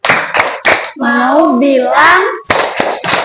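A class of fifth-grade pupils does a rhythmic thank-you clap, bursts of hand claps bracketing a stretch of sung or chanted voices in the middle, close and loud.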